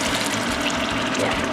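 Water is sprinkled a little at a time into a pan of stir-fried green beans with chicken, a dense hissing rush that is loud and close throughout.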